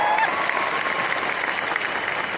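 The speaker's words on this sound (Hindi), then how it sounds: "तो एक जोरदार ताली वेस्टीज के लिए हो जाए" An audience gives loud, sustained applause for Vestige, a thick, even roar of many hands clapping at once with a faint crowd murmur underneath.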